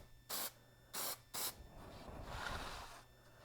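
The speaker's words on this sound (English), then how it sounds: "I'm spraying a little weird." An aerosol can sprays Plasti Dip rubber coating onto an ATEM Mini Pro video switcher in three short, loud hissing bursts, followed by a longer, uneven spray that sputters toward the end.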